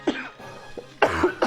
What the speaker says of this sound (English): got a coughing fit all of a sudden